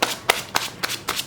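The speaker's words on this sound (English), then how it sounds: "as I am shuffling the cards" Tarot cards being shuffled by hand in a series of five sharp, crisp riffling bursts spaced about a quarter second apart, close and clear with no talking.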